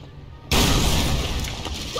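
A grenade goes off in a video game, a sudden loud, broad blast after half a second of quiet that rolls on as a dense, sustained rumble and debris noise.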